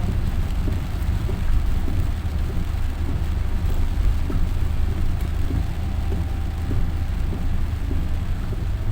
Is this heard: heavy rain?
yes